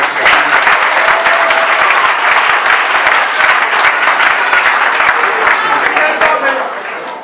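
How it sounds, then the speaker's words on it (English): A crowd gives a loud, sustained round of applause for a former mayor at a local government gathering in Ohafia, with steady dense clapping throughout that fades slightly at the end. "let's give him a round of applause"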